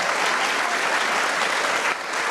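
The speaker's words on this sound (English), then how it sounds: "Can we have one more round of applause for this incredible" An audience at the 2024 Walter Dean Myers Award ceremony applauding a panel, a steady, dense round of clapping that fills the hall and dips slightly near the end.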